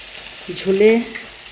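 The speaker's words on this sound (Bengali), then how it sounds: "এদিকে মাছ ভাজি হচ্ছে" Fish frying in hot oil gives off a close sizzle, with a brief tonal scrape or squeak partway through, as if a utensil is stirring the pan.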